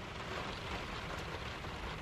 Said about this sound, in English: it's raining so hard right now